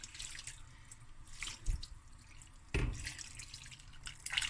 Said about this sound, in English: And I'm going to add my water, just enough to cover the rice.